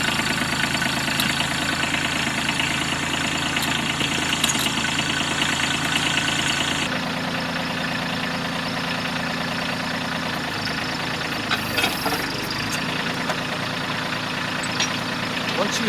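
A tractor engine idles steadily as the backhoe is raised, a continuous mid-to-low rumble with a shift in tone partway through and a brief clatter near the end.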